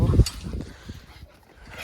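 Dogs let out of their enclosure give a loud burst of barks, then softer yips and whimpers, with a person's voice mixed in close by.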